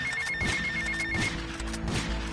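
A payphone by the mall in Washington rings in a video game. A rapid electronic trill repeats for about a second, then stops, leaving muffled game background noise.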